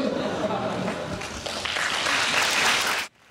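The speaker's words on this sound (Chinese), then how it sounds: "现场报以热烈掌声" Warm applause from a university audience at a Hunan University exchange forum with former Taiwan president Ma Ying-jeou: dense, steady clapping for about three seconds that cuts off abruptly, with faint voices underneath.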